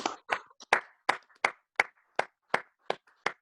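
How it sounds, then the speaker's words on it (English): A small group claps in slow unison for conservation, about ten distinct, evenly spaced claps in a steady rhythm, close and clear with silence between each. "ask everybody to put their hands together for a few seconds and clap for conservation"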